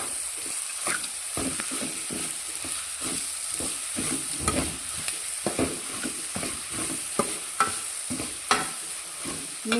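A spoon scrapes and stirs salt into chitranna rice in a hot pan, repeating steadily over a constant low sizzle, close and without talk.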